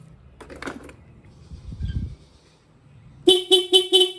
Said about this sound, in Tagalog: Stock horn tayo.